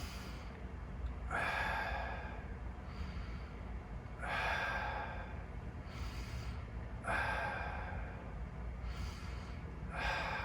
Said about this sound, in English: You're going to breathe in your nose.